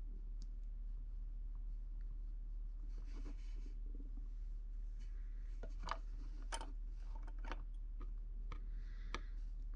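The serrated front edge of a tool texturing wax feathers and quills makes faint, scattered scratchy clicks and rasps over a low steady hum, with no voices.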